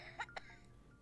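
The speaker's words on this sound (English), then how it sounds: "Why is he coughing?" Two short, quiet coughs from a character in the video game OFF, close together over a faint, low background hum.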